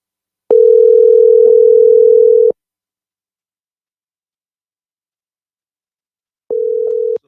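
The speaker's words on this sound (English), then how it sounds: "Let me see if I call him now if he gonna answer." A telephone ringback tone sounds on the line as a call is placed from a radio studio: one long steady two-second tone, a pause, then the start of another, loud and alone.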